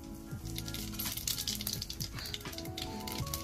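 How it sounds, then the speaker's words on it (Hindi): Cumin seeds crackle and sizzle in hot mustard oil in a pan over a wood-fired stove, a steady, close, dense frying hiss dotted with small pops, with no talking. "एक छोटा चम्मच जीरा डालूंगी"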